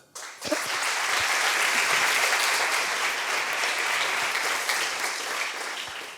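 An audience claps for Mariana at a panel discussion on democracy and equality, dense continuous applause rising quickly and holding steady before tapering slightly, with a few sharper individual claps standing out.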